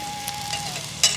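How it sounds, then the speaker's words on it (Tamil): Patties frying in oil give off a steady, soft sizzle that stays close and even, with a brief louder hiss near the end. "நல்லா பொரியுது"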